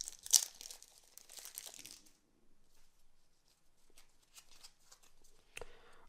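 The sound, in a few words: opening a Cardfight!! Vanguard mystery card pack wrapper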